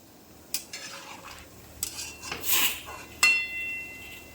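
A spoon stirs pumpkin curry in a pot, with a few separate clinks and scrapes against the metal and a soft wet swish between them, fairly quiet and close.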